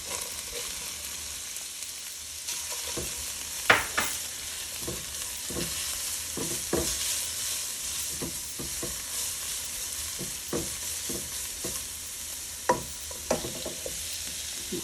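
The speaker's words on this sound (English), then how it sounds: "And I'm going to add the carrots." Cauliflower rice with onion sizzles steadily in a pan as carrots are added, a continuous close frying hiss punctuated by regular scrapes and taps of a spatula stirring.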